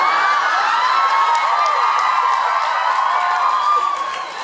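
A studio audience cheering and whooping, loud and sustained, with high shrill whoops riding over the crowd roar for several seconds before easing slightly.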